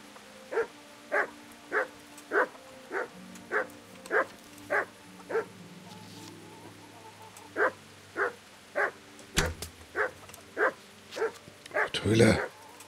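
A dog in the video game Kingdom Come: Deliverance barks over and over in a steady, evenly spaced rhythm, about twenty sharp barks with a brief pause midway, while a burst of other noise and a voice come in near the end.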